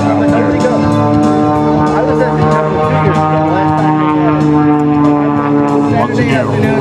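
An aerobatic propeller airplane roars steadily through a shoulder roll at an airshow, a loud sustained engine drone with shifting pitch, while an announcer talks over it.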